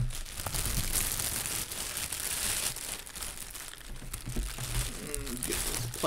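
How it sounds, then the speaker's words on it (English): Plastic wrapping is pulled and crinkled off a collectible statue base, a continuous close crackling and rustling with a few sharper tears. "Get this plastic off of it."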